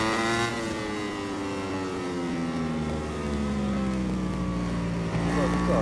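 A car engine in a virtual e-sport racing game holds a steady, droning rev that climbs and falls in pitch across the stretch, with people talking over it throughout.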